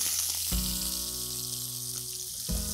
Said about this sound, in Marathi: कांद्याचा कच्चेपणा निघून जाईपर्यंत आपल्याला ते परतायचं आहे